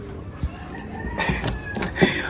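Breeder chickens at a farm feeding, with a rooster crowing amid clucking and general poultry-house noise, moderately loud and continuous with a few sharper calls.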